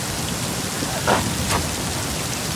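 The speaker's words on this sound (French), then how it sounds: "Il y a de la foudre là, t'as pas peur qu'on meure électrocuté?" Steady heavy rain of a thunderstorm on a hiking trail, a dense even hiss with a couple of faint brief crackles, no voices.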